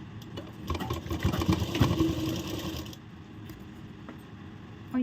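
Electric sewing machine running steadily while stitching a tucked blouse, a loud continuous mechanical whir that builds over the first three seconds, then drops to a quieter hum until the end.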